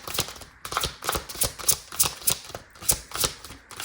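A deck of tarot cards riffled and shuffled repeatedly by hand, a quick run of crisp papery flutters and snaps in a steady rhythm, close and fairly loud with no talking.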